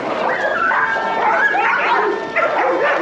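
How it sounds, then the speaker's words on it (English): Dogs fight on a street in the Balkans, with loud snarling, yelping and whimpering barks overlapping in a tangled, continuous scuffle close by. "Oh, look how their dogs fighting."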